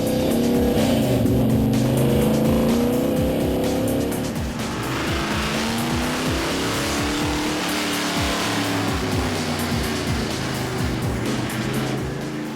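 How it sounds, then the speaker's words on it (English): A 1968 Ford Mustang Fastback track car drives hard on a road course, its engine roaring loud and close as it powers through corners with squealing tires, then settling into a steadier drone. "A road course ready Mustang specially built for the pure joy of cutting corners and sailing down the straightaways."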